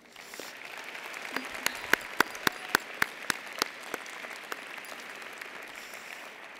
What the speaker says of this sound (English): give all the parents and loved ones a round of applause